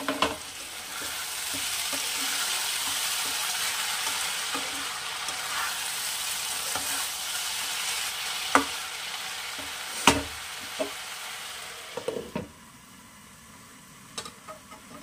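Continuous soft sizzle of bottle gourd cooking with moong dal in a pan, with scattered scraping knocks of a spoon stirring in the second half and no talking.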